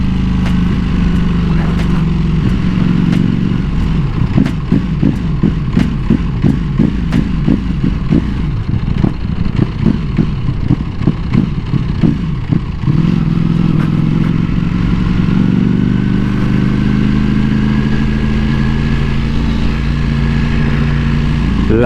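A Ducati Panigale V4S motorcycle rides at close range, its engine loud and rasping with rising and falling revs and a rapid pulsing stretch in the middle.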